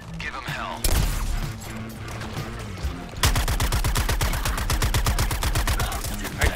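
Gunfire in the video game Suicide Squad: Kill the Justice League, with bursts of shots and then a long rapid automatic volley, loud and continuous, mixed with game effects and a voice speaking over part of it.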